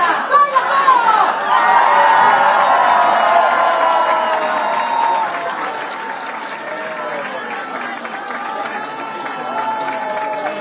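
A large crowd at Alexander Stubb's presidential election victory celebration cheers, claps and shouts continuously, loud and dense throughout, with voices rising and chanting in the mix and the roar easing slightly toward the end.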